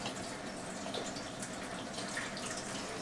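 Water runs wide open from an Enagic SD501 Kangen water ionizer, a steady, faint hiss and splash that continues without a break. No voices are heard.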